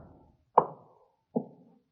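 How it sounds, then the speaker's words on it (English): A door being pushed shut, heard as two separate dull thumps spaced under a second apart, close and fairly loud against near silence. "one of you go back and push that door shut"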